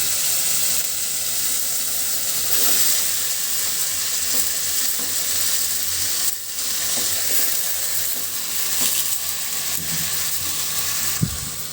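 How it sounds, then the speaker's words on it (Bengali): Washed greens, Malabar spinach, dropped into a hot pan give a loud, continuous sizzle with crackle and spatter. The sizzle dips briefly partway through, then carries on until a sharp knock near the end. No one speaks. "তো দিয়ে দিচ্ছি এর ভিতরে ধুয়ে রাখা শাকগুলো।"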